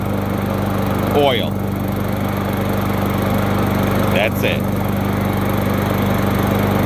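A gas lawn mower engine running steadily after a bad carburetor was fixed, a constant droning hum throughout, with a short spoken phrase and faint brief sounds over it.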